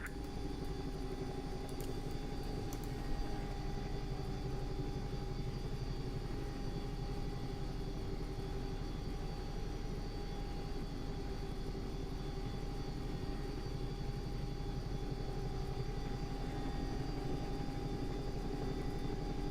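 A Bell 222 helicopter taxis on the ground in the X-Plane 11 flight simulator, its engine and rotor giving a steady, even drone with a constant whine that holds without change for the whole stretch.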